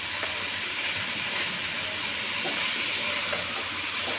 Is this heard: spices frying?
yes